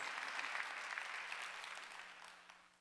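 A church congregation claps during a Wednesday worship sermon, a short burst of applause that fades out toward the end.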